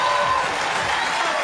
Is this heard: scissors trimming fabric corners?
no